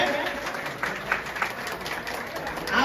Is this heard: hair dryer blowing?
no